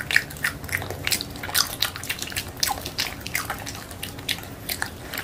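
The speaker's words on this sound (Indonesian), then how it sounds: "Yang pertama aku mau makan buah mentega." Close, wet biting and chewing of soft avocado (butter fruit) flesh, with a steady run of squishy, smacking mouth sounds and short crisp bites at a moderate level, with no talking.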